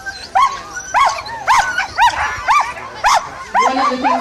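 Sled dogs bark repeatedly and loudly at the start of the Yukon Quest 300 race in the Yukon, a kennel team of about 20 dogs, with sharp evenly spaced yelps and whines over steady crowd noise and background chatter.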